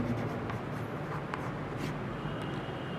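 Pen writing out an equation by hand during a Class X linear equations lesson, a steady close scratching under faint room noise.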